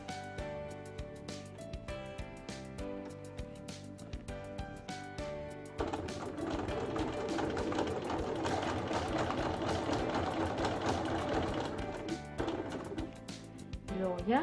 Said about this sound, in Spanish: Cuando llegamos a la señal del alfiler, tenemos que coser en recto.